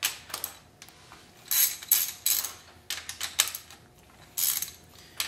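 A ratchet works loose the 10mm nuts holding an engine's valve cover to the head during a cam swap disassembly, giving bursts of quick metallic clicking separated by brief pauses, close and fairly quiet.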